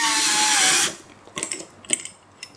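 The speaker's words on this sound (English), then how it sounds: "next I'm going to lock this with a self-tapping screw." A self-tapping screw is driven into a 3D-printed aluminum profile connector, giving a loud, steady whir of a power driver for almost a second, followed by several short, sharp clicks and taps from the parts being handled.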